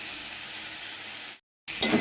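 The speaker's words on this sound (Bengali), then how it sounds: "মশলাটা ভালোভাবে কষানো হয়ে গেছে।" Spice paste sizzling and frying in a pan for a pointed gourd and shrimp curry, a steady close hiss that cuts out briefly, then returns with a clink.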